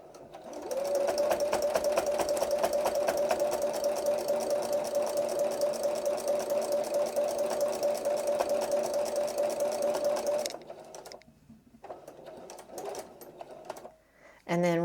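A sewing machine hums steadily for about ten seconds while back stitching a rag quilt made of homespun fabric, then stops and gives way to quieter fabric handling and brief talk.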